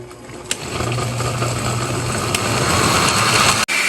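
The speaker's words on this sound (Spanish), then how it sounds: "Tapar y licuar muy bien." A blender runs steadily at close range, whirring as it purees chile de árbol salsa with tomato, tomatillo, water and chicken bouillon, a constant motor drone throughout with a few small knocks.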